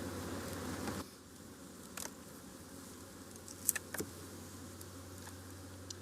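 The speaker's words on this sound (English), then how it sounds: "Now you can see the bees are starting to get a little bit more antsy" Honeybees in an opened hive hum faintly in a soft, continuous background drone, with a few quiet clicks and knocks from handling the frames, close but low in level.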